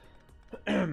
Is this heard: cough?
yes